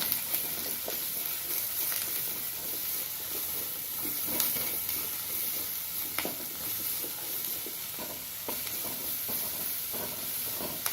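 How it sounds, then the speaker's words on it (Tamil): Three large onions with salt sauté in a pan for paneer butter masala, giving a constant close sizzle and hiss with light stirring taps scattered throughout and no speech. "கொஞ்சம் நேரம் வதங்கட்டும் கொஞ்சம் உப்பு போட்டுக்கிறேன் சீக்கிரம் வதங்கும்"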